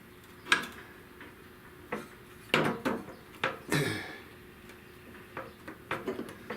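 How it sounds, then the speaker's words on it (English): Prying a bushing out of the floor shifter of a 1970 Buick Wildcat during restoration: a series of sharp metallic clicks, taps and scrapes, close and irregular, with a louder burst of clatter midway and scattered ticks toward the end. "Let me get this bushing out of here. Take the bushing out."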